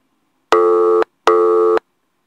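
Two loud, steady electronic ringback tones from an outgoing phone call that goes unanswered, each about half a second long and separated by a brief silence.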